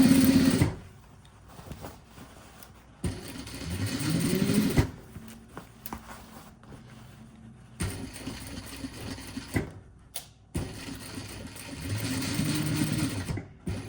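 A sewing machine stitches through thick denim in bursts, its motor whirring and rattling for a few seconds, pausing, then running again at varying speeds.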